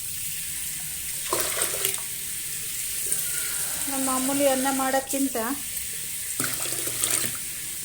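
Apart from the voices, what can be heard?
water being poured into a pot for rice jaggery payasam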